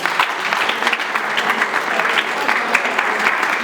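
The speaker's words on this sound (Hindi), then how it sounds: "ताली बजा के सब एक दूसरे का उत्साहवर्धन करेंगे साथ" An audience at a village school award ceremony claps in encouragement, a dense, steady burst of many hands applauding close by that fills the whole moment without a break.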